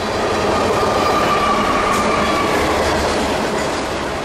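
A CSX freight train, one lead engine hauling 39 cars and a mid-train DP engine, rolls past Lakeland Junction in a loud, continuous rumble with steady wheel clatter and a faint squeal.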